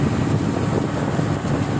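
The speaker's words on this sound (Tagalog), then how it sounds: "Ulan lang at hangin." Loud, steady rumbling roar of wind buffeting the microphone, with a dense wash of rain-like noise underneath and no voices.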